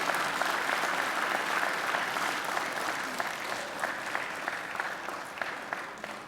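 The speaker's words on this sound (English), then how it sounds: "now I invite you to give them a mighty round of applause" Graduates at a university graduation ceremony applaud their families and friends, a sustained, even crowd applause filling the hall for several seconds without letting up.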